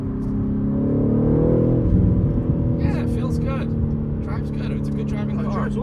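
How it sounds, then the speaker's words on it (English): A BMW G80 M3 with manual gearbox cruises with a steady low exhaust drone and road hum throughout, while people talk over it inside the car. "We got to do the exhaust on this thing."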